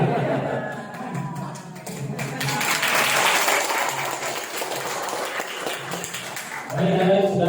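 Audience applause during a session by Romo Romanus, a steady wash of clapping with a few voices and some chuckling mixed in, swelling again toward the end.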